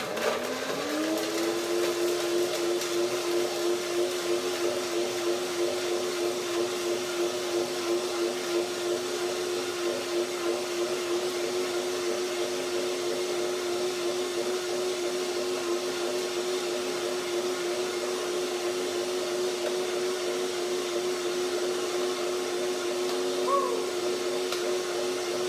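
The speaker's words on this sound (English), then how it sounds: "Macadamia nuts are very firm. I blend them first, then I taste a little bit." A blender runs steadily on firm macadamia nuts for a salad dressing, its motor spinning up at the start and then holding a loud, continuous whir alone for the whole stretch.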